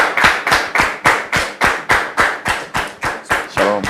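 An audience claps together in a steady, even rhythm of about three claps per second, with a brief voice at the very end.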